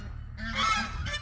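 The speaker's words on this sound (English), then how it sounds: "there's the geese" Geese honk in a short loud burst nearby, a few harsh overlapping calls outdoors by a small sawmill shed.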